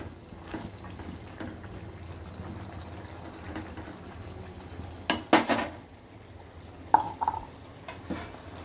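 Ivy gourd (dondakaya) curry being stirred with garam masala in a pan, with a few clear metal clinks and scrapes of a spoon against the pan over a quiet background.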